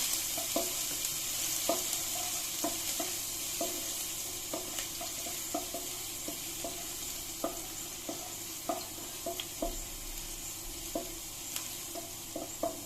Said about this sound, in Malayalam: അപ്പോൾ ഇഞ്ചിയും വെളുത്തുള്ളിയും ചതച്ച് വെച്ചതിടാം. ചെറുതായിട്ടൊന്ന് കയറ്റി കൊടുക്കാം.